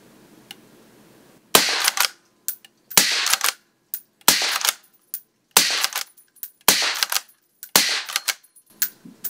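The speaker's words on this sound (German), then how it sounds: "Also das sind die ersten Schüsse mit der 308 und Schalldämpfer." Six sharp shots ring out from a suppressed .308 Win. Verney-Carron Impact LA Evolution driven-hunt rifle, fired one after another at roughly even intervals. Each report is loud and close, followed by brief mechanical clatter between shots.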